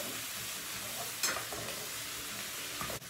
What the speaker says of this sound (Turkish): şöyle tepeleme bir yemek kaşığı domates salçası atıyor